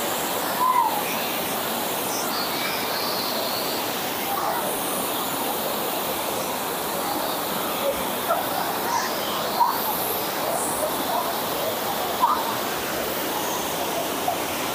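Tinago Falls in Caibiran, Biliran roars as a steady broadband wash of falling water, constant and fairly distant, with faint bird chirps over the top.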